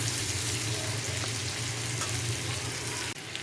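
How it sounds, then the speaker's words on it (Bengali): Chili frying in a pan, a steady close sizzle running throughout with a brief clatter near the end. "এটাকে একটু ভাজা ভাজা করে নেব"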